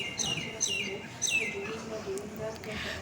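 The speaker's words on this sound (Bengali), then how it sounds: "তারের উপরে সব সময় হচ্ছে পাখি থাকে, কবুতর থাকে" Small birds chirp in short, bright calls perched on overhead wires on a morning outing, with pigeons among them; three clear bursts come in the first half and fainter calls trail off afterward, over a low outdoor hum.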